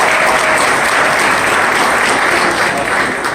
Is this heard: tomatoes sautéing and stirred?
no